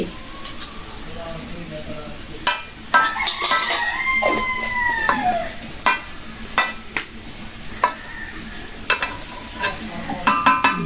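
Ghee being stirred into hilsa pulao in a pot, with soft scraping and stirring noises close by under a low sizzle, while people talk intermittently and a rooster crows faintly in the background.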